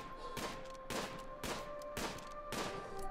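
Evenly spaced gunshots in the colony game RimWorld, five sharp reports about half a second apart, moderately quiet and close with no talk.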